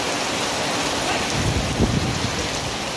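Heavy, steady rain pours down in a village, a dense continuous hiss of drops hitting surfaces with a low rumble underneath, even and loud throughout, with no voices.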